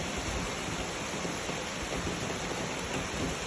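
Steady, dense hiss of rain falling, continuous and even throughout with no voices.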